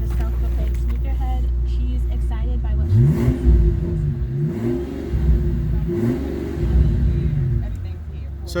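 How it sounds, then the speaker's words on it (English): An idling Mercedes-Benz SL65 engine is revved several times in quick throttle blips, each pitch rising and falling back to a low, steady rumble. "I'm going to give it a little blip of the throttle."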